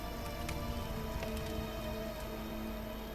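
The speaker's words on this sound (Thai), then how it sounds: "แล้วฝนก็ตกด้วยนะ" Steady rain falling in the video game Tomb Raider 2013, a dense continuous hiss of drops with faint tonal ambience underneath, even and unbroken throughout.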